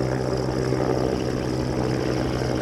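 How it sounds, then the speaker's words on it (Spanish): A yellow helicopter flies over a coastal cliff fishing spot, its rotor and engine producing a steady, loud, continuous drone with a low rhythmic throb and no talk. "Y un helicóptero amarillo totalmente, macho."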